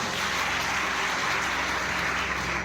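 An audience at a talk in Gwalior, India, claps in loud, continuous applause, a dense steady roar of many hands with no break.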